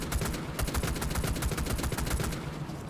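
DMR rifle fire in the console shooter Rainbow Six Siege, a fast steady string of sharp close shots, loud and evenly rhythmic over nearly three seconds.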